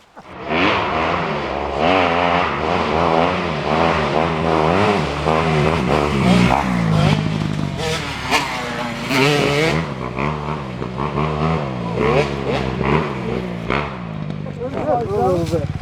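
Dirt bike engine revving hard on a late-fall trail ride, a steady loud whine rising and falling in pitch throughout, with people shouting and talking over it.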